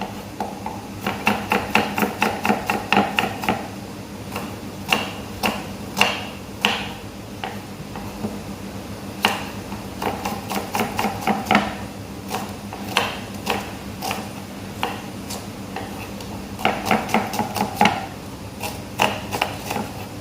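Onions sliced with a knife on a board for a Gujarati moong dal tempering, giving bursts of quick, steady chopping taps with short pauses between runs, close and fairly loud with no talk.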